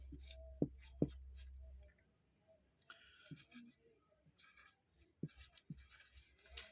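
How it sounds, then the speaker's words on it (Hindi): Pen scratching on paper during an astrology lesson, in faint, intermittent strokes with a couple of sharper taps near the start, over a quiet room with a low hum. "तो इसको भी हम यहाँ पे लिख ले रहे हैं,"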